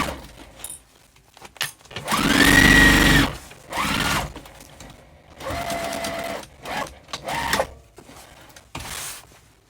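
Sewing machine stitching a tote bag made from jelly roll fabric strips and backstitching, with several short bursts of motor whir separated by pauses, clicks and fabric handling, loud and close.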